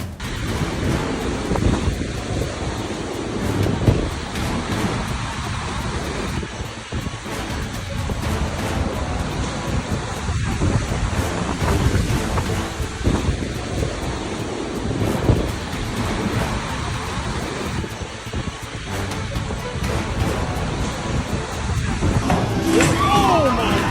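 Rough wind and crashing surf roar continuously, a dense, turbulent rumble of a stormy sea with gusts buffeting the microphone.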